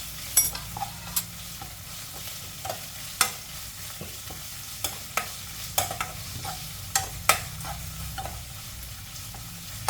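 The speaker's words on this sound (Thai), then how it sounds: "ลงไปผัดก่อนค่ะ ผัดให้มันสุกนะคะ" Sliced pork belly stir-fried in a pan for oyster-sauce Chinese kale, giving a steady close sizzle with repeated scraping stirs of the spatula every second or so, no talk.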